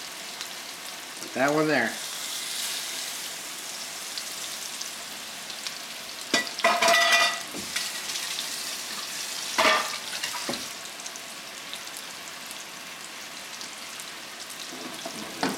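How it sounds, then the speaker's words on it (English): Ahi tuna sears in a hot, oiled pan on high heat with a steady broadband sizzle, brief louder bursts as pieces are placed or moved, and a short spoken remark near the start. "So we can start searing our ahi tuna."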